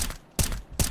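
Gunfire in the Counter-Strike video game: two sharp, loud shots about 0.4 seconds apart, each a broadband crack with a booming low end, close and alone without talk.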